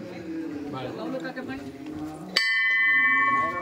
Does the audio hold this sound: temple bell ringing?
yes